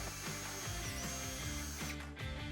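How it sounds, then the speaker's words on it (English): A power drill with a 3/16 bit whirs steadily at close range, boring holes for a trailer wiring bracket on a Mazda CX-5, its pitch dipping and rising slightly through the material. "drill out 2 holes using a 3/16 drill bit"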